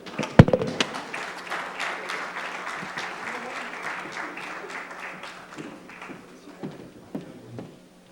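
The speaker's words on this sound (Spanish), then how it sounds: "Un fuerte aplauso para él." Conference audience at an energy-security forum applauds a speaker, a sharp initial clap followed by a few seconds of moderate, fairly sparse clapping that thins out gradually with scattered last claps.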